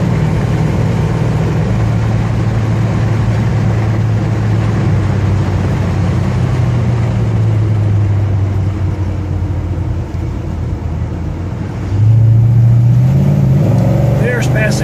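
1964 Chevrolet Chevelle convertible heard from inside while driving, a steady engine drone that surges louder and deeper near the end as it kicks down into passing gear and accelerates.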